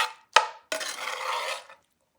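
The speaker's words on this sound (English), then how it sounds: "mix it up" A spoon scrapes and stirs through Puerto Rican rice with ground beef and crispy pegao in a pot: a sharp clink, then about a second of steady scraping, close and alone.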